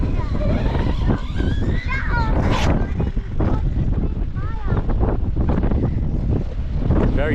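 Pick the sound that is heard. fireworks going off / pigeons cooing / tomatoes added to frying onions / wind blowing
wind blowing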